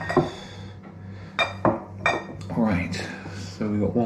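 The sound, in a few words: drinking glasses clinking as they are handled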